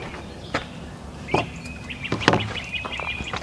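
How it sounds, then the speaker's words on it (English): Birds chirp in short, scattered calls at a state park campsite in Kansas in spring, a few brief bright tweets standing out over quiet outdoor ambience. "Sit here and listen to the birds and enjoy the outdoors before we get rained on."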